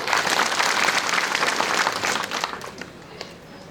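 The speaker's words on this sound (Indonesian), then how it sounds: "Tepuk tangan untuk Kelasis Selok." A church congregation at a Kimyal New Testament jubilee celebration in Korupun, West Papua, applauds for Kelasis Selok's donation, a full, lively clapping from many people that gradually thins and fades, with faint voices near the end.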